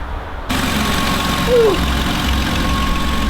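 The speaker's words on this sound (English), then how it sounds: "That's a happy engine." A Jeep Wrangler engine idles steadily and close by, a low even rumble that continues without revving, with no talking.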